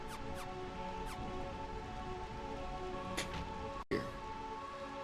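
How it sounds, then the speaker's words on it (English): Steady, constant rain falls throughout in Final Fantasy IX, a broad even wash with a few brief brighter streaks and a short dropout near the end, with no talking. "I'm in a place that's raining constantly"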